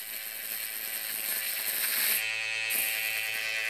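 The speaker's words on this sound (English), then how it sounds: "So you have to go slow, let the clipper work." Electric hair clippers buzz steadily while cutting hair for a high skin fade, a close, continuous humming drone with a brief change in tone midway, no talking.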